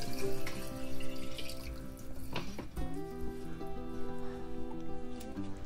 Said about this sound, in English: then I add water.